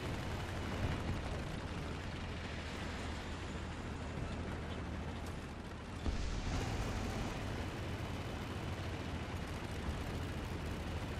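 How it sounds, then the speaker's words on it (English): Missile launches and gunfire in the War Thunder tank game, a dense continuous roar of explosions and firing with a louder burst partway through, no talking. "I can hear somebody firing missiles from the left, and there's gunshots"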